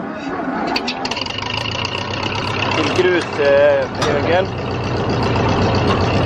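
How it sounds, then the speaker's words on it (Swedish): A tractor fitted with a backhoe idles and rumbles steadily nearby while someone talks over it, with a brief whistle-like tone in the middle. "Nu ska vi bara på traktorn ut till andra sidan"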